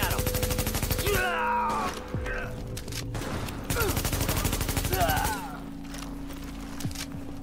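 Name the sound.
gunfire in The Division video game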